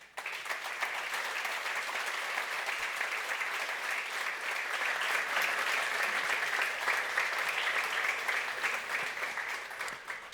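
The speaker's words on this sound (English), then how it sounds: "Give them an applause." Audience applause at an awards evening of a conference as the nominees for the Dedication Awards are presented, dense sustained clapping from a crowd in a hall that holds steady for about ten seconds before fading.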